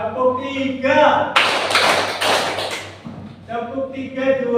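A junior high class claps together in an ice-breaking game, three quick, loud group claps in a short burst, with a teacher talking just before and right after.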